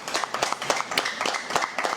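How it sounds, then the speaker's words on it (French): Audience applause following a speech on pan-African doctrine: steady, dense clapping from a crowd, sustained at moderate level throughout. "je vous demande d'applaudir"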